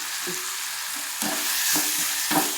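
Onions and tomatoes sauté with ginger in a pan for chutney, a constant close sizzle broken by a few scraping stirs at regular intervals.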